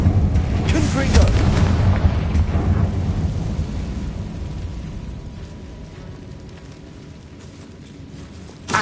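A Confringo blasting spell erupts in Hogwarts Legacy, a loud rumbling boom with heavy low thunder-like roar that swells early and slowly decays over several seconds, ending in a brief sharp burst.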